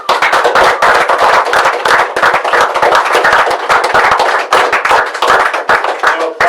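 Dense applause from a live audience after a spoken-word performance, sustained hand clapping for the whole stretch, loud and close, with no talk over it.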